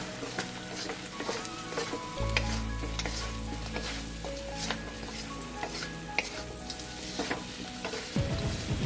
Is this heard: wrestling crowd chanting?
no